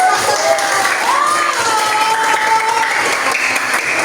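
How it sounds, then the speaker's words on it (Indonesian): Applause from students in a classroom after a group presentation, continuous clapping with some children's voices and shouts mixed in, loud and close throughout. "Beri tepuk tangan dulu"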